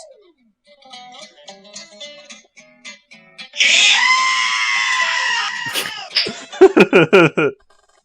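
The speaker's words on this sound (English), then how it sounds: "I love the blood-curdling scream sound effect that I chose." A long, loud, shrill scream sound effect cuts in after quiet chatter, holding for a couple of seconds and then breaking into choppy, laugh-like shrieks.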